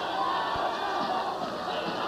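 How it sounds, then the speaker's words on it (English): Wrestling arena crowd shouting and cheering as one wrestler holds a bear hug on the other, a steady loud roar of many voices throughout. "Crowd trying to exhort Johnny to work his way out."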